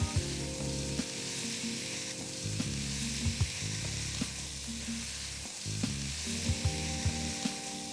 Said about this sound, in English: Now cook it for at least 2 to 3 minutes till the mutton starts browning.